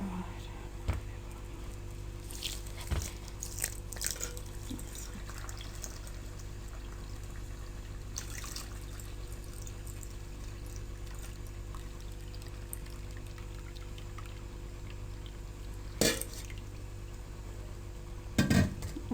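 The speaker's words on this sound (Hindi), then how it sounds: "इलायची सूजी में डाल देनी है और आपने इसमें दूध डाल देना है" Milk pours into semolina seasoned with cardamom for a makhandi halwa, a soft continuous liquid pour in a kitchen with a few occasional utensil clinks and brief sharp knocks.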